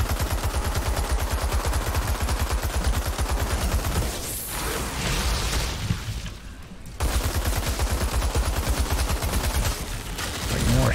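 Sustained rapid bursts of light machine gun fire in the Outriders video game, loud and rhythmic, pausing briefly in the middle before resuming.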